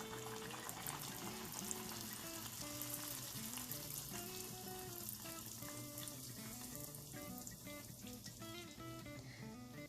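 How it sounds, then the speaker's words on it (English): Loud, continuous sizzling and crackling of bhatura dough frying in very hot oil, with faint background tones running under it. "The oil should be really hot while frying the bhaturas"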